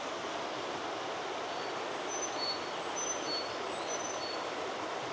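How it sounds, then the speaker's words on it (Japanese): A faint series of thin, very high whistled bird notes, a few short peeps in a row, over a steady outdoor hiss on a trail in Oze, Gunma. "なんか変わった鳥の声がするね。"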